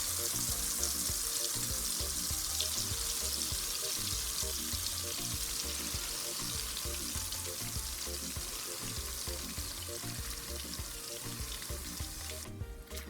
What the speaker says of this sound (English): So I'm going to put my egusi mixture into the oil.